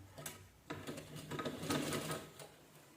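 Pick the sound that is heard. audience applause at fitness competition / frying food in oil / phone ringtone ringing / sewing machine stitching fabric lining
sewing machine stitching fabric lining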